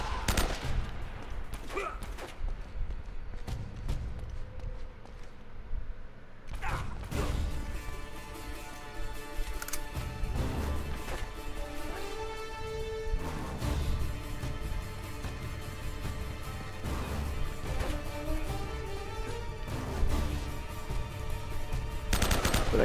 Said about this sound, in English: I can't keep missing these shots.